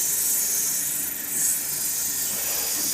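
Sandpaper rubbing against a spinning TF Customs shaving brush handle on a lathe, giving a steady airy hiss that holds constant and swells briefly midway, with no voices.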